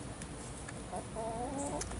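Backyard egg-laying chickens cluck softly amid a steady background hiss, a few short calls scattered across the moment at moderate distance.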